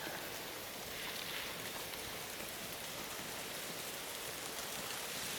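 Ice shaken loose from tree branches pattering down through a winter forest like hail, a dense, even hiss of countless small impacts that carries on steadily throughout at a soft, distant level.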